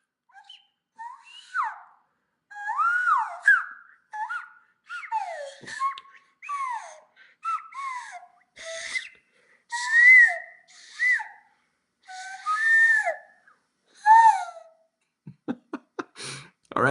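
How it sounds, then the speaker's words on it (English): A person whistles by blowing air out through the nose, producing a series of short, pitched, sliding tones with brief pauses between them, close and clear. "that's a nose whistle"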